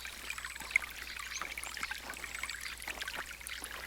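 Water trickles quietly over a forest stream bed beneath a large fallen tree: a faint, continuous soft babble with a few brief brighter splashes and no voices.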